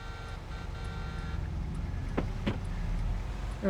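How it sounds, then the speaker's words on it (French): A car passes in Farming Simulator 22 with a steady engine and road rumble over low game ambience, and a couple of sharp clicks toward the end. "On va laisser passer la voiture."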